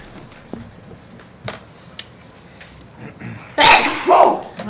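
A single loud, close sneeze bursts out near the end after a quiet stretch of low room murmur in a council chamber before a meeting.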